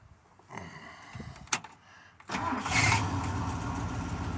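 A 1979 Ford motorhome engine cranks after a few faint clicks and knocks, then catches and settles into a steady, moderately loud running rumble.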